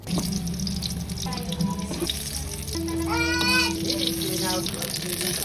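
Tap water running steadily over tomatoes being rinsed in a kitchen sink, a close continuous splashing rush with faint clinks and a voice talking briefly underneath.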